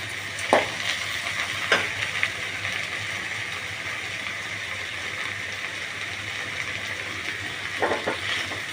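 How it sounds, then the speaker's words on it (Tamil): Okra (vendakkai) with chilli powder sautés in a pan, a low continuous sizzle with a few clicks and scrapes of stirring at the start and again near the end. "கொஞ்சம் அந்த பச்சை வாசனை போகிற வரைக்கும் வதக்கிட்டு அதுக்கப்புறம் ஆஃப் பண்ணிவிடுங்க"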